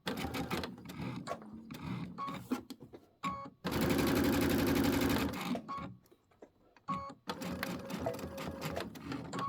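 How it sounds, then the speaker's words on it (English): A sewing machine runs a short, loud burst of straight line quilting on a small mini quilt, set among clicks, handling noises and other busy sounds before and after. "I just did some straight line quilting on that to kind of finish it off"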